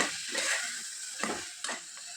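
Vegetable pieces cooked through in a hot tempering of oil, frying with a soft steady sizzle and a few sharp stirring clinks in a home kitchen.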